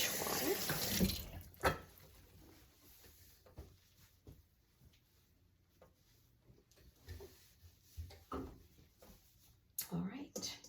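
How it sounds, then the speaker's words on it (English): Hands are rinsed in a sink of dishwater during bread making, giving soft splashing and dripping with a few clunks, fairly quiet and close. "Just rinse my hands in my dishwater."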